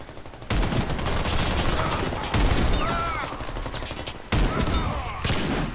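Repeated bursts of close automatic gunfire from a newly added weapon in the shooter game Warface, coming in three loud volleys separated by brief pauses, with faint in-game chatter beneath.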